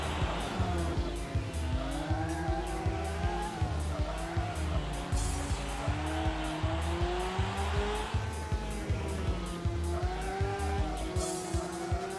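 Motorcycle engine over-revving through a corner in the MotoGP 2 video game, a loud, steady high-pitched engine whine with rising and falling revs and a pulsing rhythm, tire noise mixed in, no voice.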